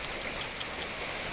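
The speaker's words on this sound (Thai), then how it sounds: "วันนี้ฝนตกพี่น้อง" Heavy rain pours down steadily, a dense, close, loud hiss of drops drumming on surfaces, continuous with no voices over it.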